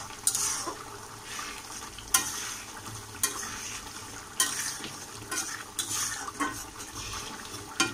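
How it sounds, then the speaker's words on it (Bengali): Bitter gourd and fish belly curry is stirred in a wok, with a spatula scraping and clinking at irregular intervals over a soft background sizzle, close up and without talk. "পানিটা কমে যাওয়া পর্যন্ত এটা কষাতে থাকবো এবং এভাবে নাড়তে থাকবো, নইলে কড়াইটা লেগে যাবে।"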